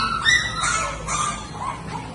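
Small puppies whimper and yip in thin, high-pitched cries, close by and continuous over a faint background.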